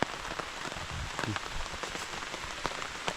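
Steady rain patters on a surface in a forest, a dense hiss of drops with occasional louder taps close by.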